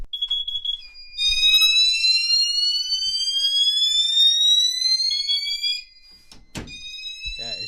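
An amber carbon monoxide alarm blares a loud, continuous piercing electronic tone with rising sweeps for about five seconds, then cuts off, followed by a brief clatter and another tone.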